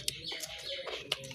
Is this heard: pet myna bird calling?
yes